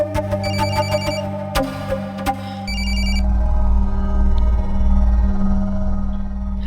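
A telephone rings in a repeating electronic trill, loud and close, then gives way to a steady low hum.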